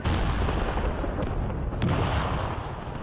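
A British artillery barrage on the Western Front in 1917, part of a four-million-shell bombardment, rumbles loud and unbroken as a dense low roar of continuous gunfire, with sharper blasts rising out of it now and then.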